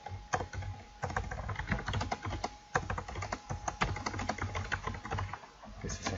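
Rapid, uneven clicking of computer keyboard keys while C++ code is typed, close and fairly quiet with brief pauses between bursts of keystrokes.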